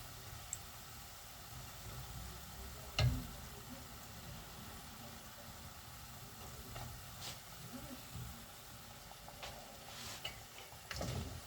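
A faint, steady sizzle of fış fış dessert dough frying golden in hot oil, with a few soft clinks and stirring sounds breaking through now and then.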